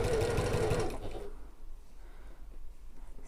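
A sewing machine stitches a tapered seam on an evening bag, giving a loud, close mechanical whir for about a second before stopping and leaving quiet room sound.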